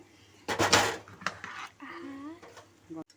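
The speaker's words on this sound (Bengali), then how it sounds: "দেখুন এবার আমি ঢাকাটা খুলছি" A lid lifted off a cooking pot of banana flower and prawns with coconut, a short metallic clatter and knock near the start followed by a few lighter clinks, fairly quiet in a home kitchen.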